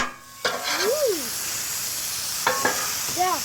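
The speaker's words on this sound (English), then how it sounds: "get some more oil on there, really hot, and then start frying them up" Potatoes fry in very hot oil with a steady, soft sizzle and hiss throughout, broken by a few brief higher vocal sounds over the top.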